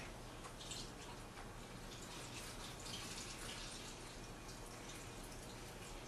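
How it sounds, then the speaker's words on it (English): Water draining from a block of firm tofu into a kitchen sink gives a faint, steady hiss and trickle, even and unbroken throughout. "So we'll just drain this in the sink."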